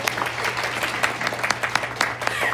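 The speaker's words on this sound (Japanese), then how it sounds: "今日わざわざ大阪から来てくださいました橋本くんに大きな拍手お願いします" An audience claps for a performer at a live birthday show in Kanazawa, with a moderate crowd's sharp, irregular claps close by over a low electrical hum.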